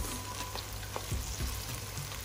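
Onions fry in a pan for a beans stew, giving a steady close sizzle with faint crackles throughout and a few soft clinks and stirring scrapes.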